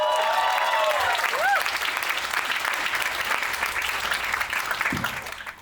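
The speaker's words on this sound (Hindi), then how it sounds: "तो अगर जोर से ताली बजाओगे तो अगली पिक्चर ही बना देंगे।" An audience at a film fan meet claps loudly in a dense, sustained burst of applause, with a few whoops and cheers in the crowd, before it slowly dies away.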